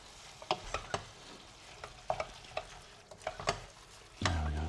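A spoon stirs ragu with carrots in a pan, giving irregular scraping knocks over a soft sizzle of frying, followed by a louder burst of sizzling at the end.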